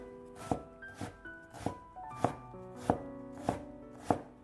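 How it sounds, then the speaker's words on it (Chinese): Cooked green beans are chopped finely with a knife on a cutting board, about seven evenly spaced, soft knocks. Gentle background music plays throughout at low overall volume. "豆角晾凉之后放在案板上切碎，尽量切得碎一点"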